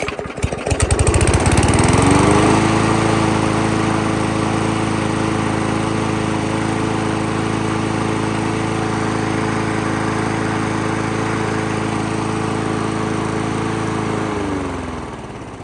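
Victa lawn mower engine, freshly repaired with a swapped tank-carburettor assembly, new diaphragm and primer bulb, starting up and settling into a loud, steady, close running drone that holds for about twelve seconds before winding down at the end.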